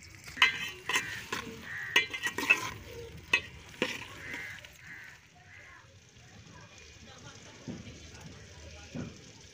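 Okra frying in a pan with a spoon stirring it, heard as steady sizzling broken by sharp scraping clicks. The clatter is busier in the first few seconds and the frying settles to a quieter hiss after that.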